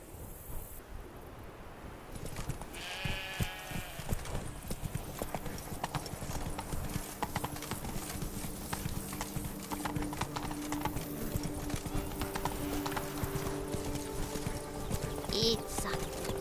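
Horse hooves clip-clop steadily at a riding pace in the Witcher 3 video game, with an occasional whinny and a light wind bed; a voice talks over the trotting.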